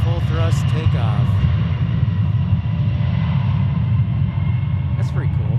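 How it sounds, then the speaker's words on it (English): An airliner makes a full-thrust takeoff at Memphis International Airport, a loud, steady, deep engine roar that holds throughout, with brief voices nearby. "Full thrust takeoff."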